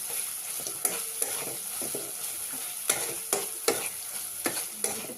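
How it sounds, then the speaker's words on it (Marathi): Homemade red chilli powder masala sizzling and being stirred in hot oil, a steady crackling fry with repeated sharp scraping strokes of the spoon against the pan, close and continuous, with no talking. "त्याच्यातच घरचं लाल तिखट ॲड करते आणि चांगल्या तेलामध्ये आपण हे परतून घेऊया।"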